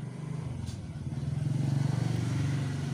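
A refrigerator's compressor motor starts running again, a low, rhythmic pulsing hum that grows louder and then settles into a steady drone close by.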